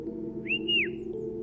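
A man gives a single short whistle to his dog that rises and falls, clear and alone over a low steady hum.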